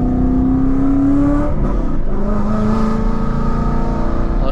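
A 900 HP Ford Mustang engine revs loudly and close, a dense roaring drone with a rising whine that drops back as the throttle lifts, then holds a heavy rumble.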